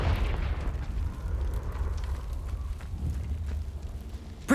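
An explosion from the Confringo fire spell in the video game Hogwarts Legacy, heard as a loud, sustained booming rumble that fills the whole clip with no talk over it.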